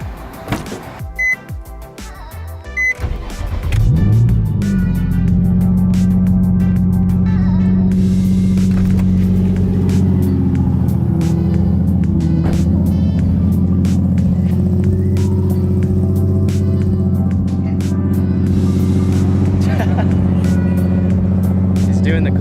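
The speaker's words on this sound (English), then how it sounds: "So I'm gonna give you guys a little cold start." Cold start of a BMW E46 or Nissan 350Z: a few clicks and a short cranking whir, then the engine catches loudly and settles into a steady, close, rumbling idle with a raised-rpm drone.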